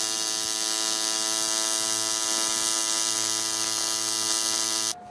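A TIG welder on aluminium sheet filling an oversized purge-line hole gives a steady, loud electric buzz with a fixed tone, cutting off sharply near the end; no one speaks.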